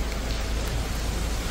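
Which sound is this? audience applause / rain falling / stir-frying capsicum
rain falling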